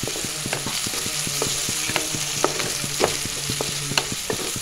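Onions, green chilies and turmeric frying in a pan for a small-fish curry, stirred with a spoon that taps and scrapes in a regular rhythm over a continuous loud sizzle, close up with no voices.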